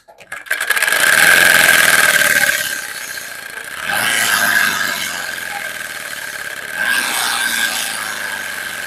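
Turbo spoke sound cards flapping against bicycle wheel spokes give a loud, buzzing, motor-like rattle that surges and eases in several waves, close by, with a voice faintly underneath.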